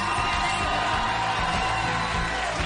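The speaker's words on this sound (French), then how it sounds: "On peut les applaudir très très fort." A studio audience at a French television entertainment show claps and cheers, a dense, continuous roar of applause and whoops that holds steady at even volume throughout.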